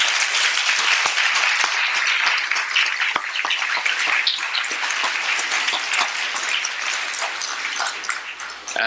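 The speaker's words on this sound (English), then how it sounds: "let's have a nice round of applause for all of them" Dense, sustained applause from a live audience thanking a panel on celebrity journalism, loud and steady for the whole stretch with no speech over it.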